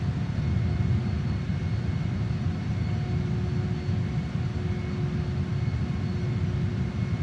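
A JAS-39 Gripen jet descending to land at Mudgee, New South Wales, in Microsoft Flight Simulator gives a steady, loud engine drone that holds without a break.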